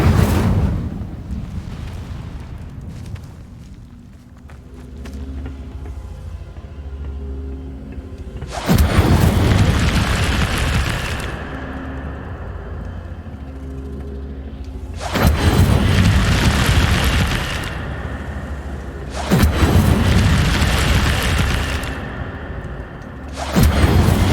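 Incendio fire spell in a Harry Potter video game, heard as three loud whooshing, booming fire blasts in close succession over a low rumbling backdrop.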